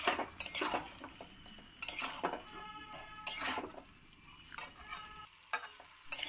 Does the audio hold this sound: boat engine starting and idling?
no